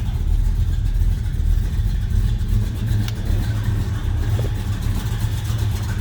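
A 1974 Plymouth Road Runner with a 440 V8 runs steadily from behind the car, a deep, loud rumble with a lumpy idle that holds evenly for the whole stretch, with no talking.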